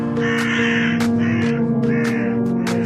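Several loud, harsh crow caws repeat in uneven bursts over a steady low hum, with no talk.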